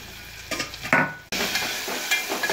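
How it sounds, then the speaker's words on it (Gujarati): Sliced onions mixed with garlic-chilli paste in a hot pan, with a spoon scraping and stirring, soft sizzling and a brief clatter, followed by a steadier fry hiss. "પછી બધું મિક્સ કરીને હવે ડુંગળીને ચડવા દઈશું।"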